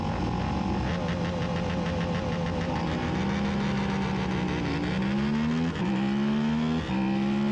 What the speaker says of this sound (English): There goes Tyler Scott, ripping a sick wheelie in 2nd and 3rd gear, flying by me on the straight